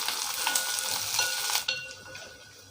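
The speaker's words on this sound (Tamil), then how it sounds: "ஒரு பச்சை மிளகாய், கொஞ்சம் சின்ன வெங்காயம், அப்புறம் கொஞ்சம் கறிவேப்பிலை. இதை இப்போ கொஞ்சம் வதக்கி எடுத்துக்கிறோங்க." Green chili, shallots and curry leaves sauté in a pan for a Kerala style mango fish curry, with a steady bright sizzle and stirring up close that drops to a softer fry partway through.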